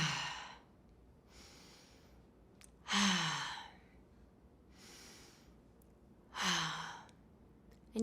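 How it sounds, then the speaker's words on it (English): Three slow, deep breaths taken one after another, each a soft inhale followed by a louder, breathy, sighing exhale, evenly spaced and close to the microphone, with quiet pauses between. "you can just take in 3 rounds of breath"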